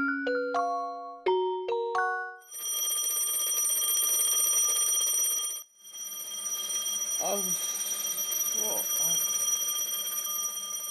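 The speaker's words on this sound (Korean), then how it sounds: "자명종 소리에도 엄만 꼼짝을 못한다." An alarm clock rings in a home as a mother fails to wake, opening with a few quick rising chime tones, then a sustained bright electronic ringing that pauses briefly and resumes, with faint voices underneath.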